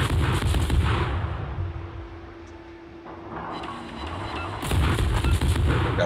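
Heavy naval gun salvos from the tier V USS Hill premium destroyer in a naval video game: a loud booming burst at the start, a quieter rumbling lull, then another thunderous volley near the end.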